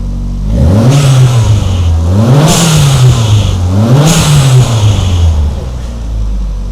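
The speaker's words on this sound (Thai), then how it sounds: "เดี๋ยวฟังเสียงท่อกันว่าดังยังไง" A Toyota 3S-GTE engine swapped into an AT190 body revs up and down three times through a deep exhaust, loud and close, each surge rising and falling in a rhythmic swell.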